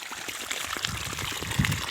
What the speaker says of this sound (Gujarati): કેટલું પાણી આવે છે